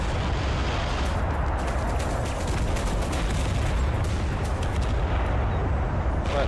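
Enemy artillery fire in Total Conflict Resistance, a dense, continuous rumble of booms and explosions with heavy low-end, steady and loud throughout without a clear break.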